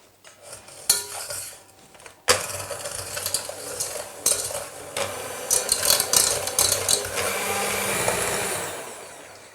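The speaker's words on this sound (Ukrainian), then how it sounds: "І тепер все добре змішую за допомогою міксера." An electric hand mixer whirs steadily through sugar and vanilla sugar in a bowl for an Easter paska batter, its loud continuous drone starting after a couple of bumps and beaters rattling against the bowl close up.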